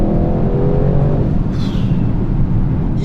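Audi RS engine pulling in third gear from about 3000 rpm, a loud, deep rumbling growl that builds briefly and then settles into a heavy low drone, close up with no voices.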